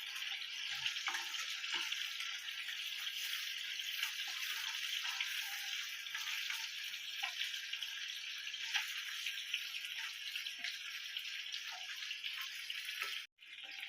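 Snakehead murrel (shol) fish pieces frying lightly in oil, a steady dense hiss of sizzling with small crackles running throughout, close and fairly soft, ending with a brief clatter.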